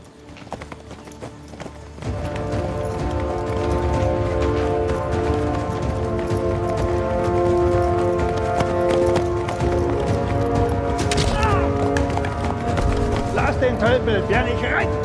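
Horses galloping in a historical German drama set in the past: dense hoofbeats drum continuously and loudly after a brief quieter start, mixed with a music score, with a higher burst near the end.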